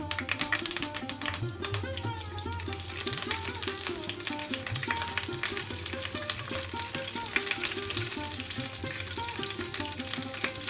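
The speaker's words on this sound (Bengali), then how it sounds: "এবার আমরা কারি পাতাটা দিয়ে দিচ্ছি।" Curry leaves crackle in hot oil with black mustard seeds, dried red chillies and fenugreek seeds for a Goan pomfret curry tempering, a steady dense sizzle running throughout with a faint rhythmic tapping layered over it.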